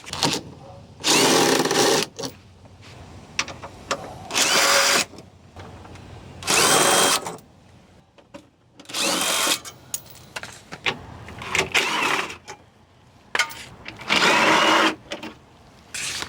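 A power tool spins out bolts from the bottom transmission splash shield of a 2016 Mercedes GL450 4Matic 3.0L, running in several loud bursts of whirring with short pauses between them, close up and without talk.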